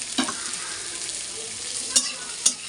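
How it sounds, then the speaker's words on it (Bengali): Onions frying in a pan, a dense steady sizzle filling the whole moment, with a few sharp spoon knocks and scrapes on top, close and loud, no voices. "হালকা ব্রাউন কালার ধরবে, অতক্ষণ অবধি পেঁয়াজটাকে ভাজবো"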